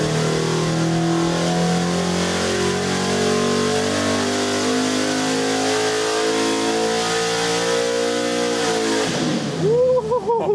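A 406ci dirt track racing engine with cast iron heads runs at sustained high revs on a dyno, a loud steady roar held for about nine seconds before it drops off and winds down.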